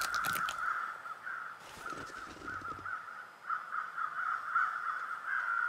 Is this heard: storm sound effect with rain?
no